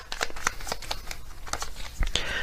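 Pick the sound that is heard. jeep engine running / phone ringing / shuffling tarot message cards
shuffling tarot message cards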